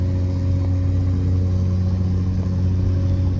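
A Cummins diesel truck engine with a past turbo failure, heard from inside during a pull: a loud, steady low rumble with strong droning harmonics, continuous and without talk.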